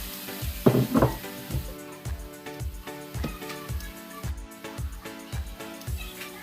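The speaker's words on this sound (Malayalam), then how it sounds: "നന്നായിട്ട് ഇളക്കി കൊടുക്കാം." A spoon scrapes and stirs dry fish curry masala with grated coconut in a pan. Regular rhythmic strokes run over a soft sizzle, with a louder burst of frying early on and no talking.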